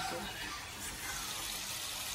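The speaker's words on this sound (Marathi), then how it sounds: "हे पाणी टाकायचं, थोडंसंच ठेवायचं." Water pours steadily into a pot of chicken curry being cooked at home, a continuous soft splashing wash heard alone for a couple of seconds.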